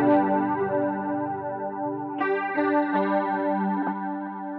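An electric guitar runs through Boss CE-2W and CE-2 chorus pedals engaged together. Sustained chords shimmer with a wavering, watery chorus, and a few fresh strums ring out clearly with nobody talking.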